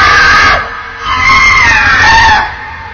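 A woman lets out a very loud, shrill scream that lasts nearly three seconds, dipping briefly before it rises again, with no other voices alongside it.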